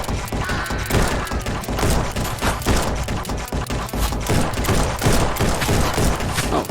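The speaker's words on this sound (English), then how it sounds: "Someone shooting at me?" Rapid gunfire crackles in Red Dead Redemption 2 played in VR, a dense, loud fusillade of sharp shots and thumps repeating without pause for several seconds, close and continuous.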